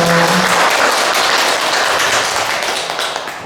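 Loud, dense applause from an audience at a Buddhist university lecture at Beopungsa temple in Wonju, a sustained wash of many hands clapping that slowly fades toward the end.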